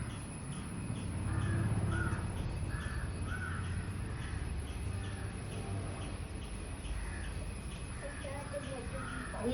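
A crow caws repeatedly at a home. The short harsh calls come at irregular intervals and sound moderately distant over a steady background hum.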